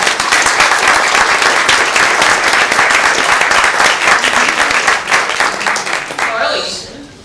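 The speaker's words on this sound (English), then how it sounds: "I am pleased you're clapping so much" A women's club forum audience applauds loudly and steadily, dense clapping filling the room for about seven seconds before tapering off at the end, with some voices mixed in.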